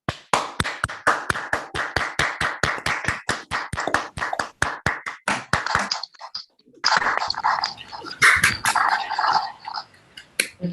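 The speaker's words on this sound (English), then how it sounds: "So let's take the opportunity that Eduardo allows us to unmute to just clap for the organizer." Rhythmic hand clapping over an online meeting connection at the close of a physics programming conference, sharp evenly spaced claps at first, then a brief pause and a looser, overlapping burst of clapping from several unmuted participants.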